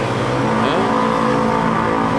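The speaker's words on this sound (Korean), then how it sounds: "오토바이 소리 나고 장난 아니죠." A motorcycle roars past on a busy city street, its engine a loud, continuous droning whine that stays close and steady throughout, with no talking.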